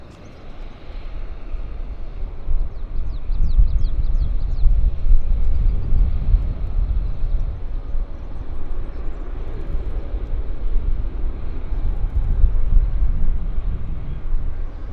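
An American Airlines airliner passes at Vancouver Airport with a deep, rumbling engine drone that swells and holds strongly, then eases slightly before building again, heard alone without voices.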